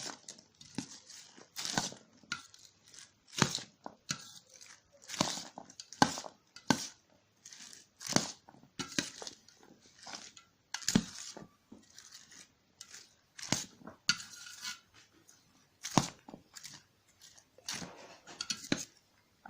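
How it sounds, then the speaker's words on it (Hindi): A chaat of chickpeas being tossed and mixed in a bowl with a spoon, giving repeated sharp clinks and scraping knocks in an uneven rhythm, close and fairly loud, with no talking. "अब इसको भी मिक्स कर लेंगे।"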